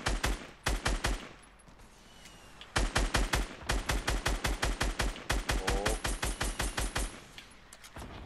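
Rapid automatic gunfire in Fortnite, rattling off in several sustained bursts of evenly spaced shots with short pauses between, loud and close with no talk over it.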